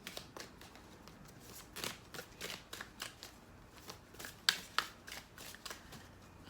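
Tarot cards being shuffled by hand, a run of crisp riffling bursts and soft slaps repeating irregularly, close and fairly quiet, with no talk.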